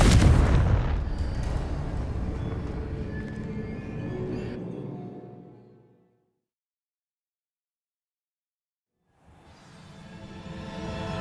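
Confringo blast spells in the video game Hogwarts Legacy: a heavy booming explosion that rumbles and decays into silence, followed several seconds later by another rising blast.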